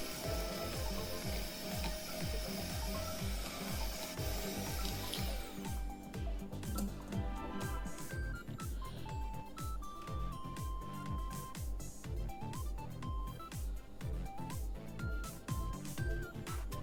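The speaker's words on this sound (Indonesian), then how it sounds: "Kemudian kita masukin butter. Ini kita kocok lagi." An electric mixer beats butter into kue lapis batter, a steady mechanical whirring with rhythmic rattling and a shifting motor whine, continuous throughout.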